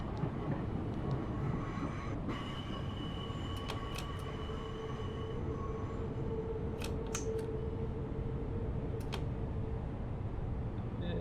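A subway train in the Subway Sim 2 game, a newer and livelier trainset, rolls along with a steady loud rumble, some tonal whine and brief clicks and squeaks over the top.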